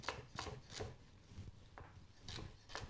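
Knife chopping vegetables on a cutting board for a soup base, a series of fairly quiet, crisp strikes spaced irregularly with brief pauses, no talking.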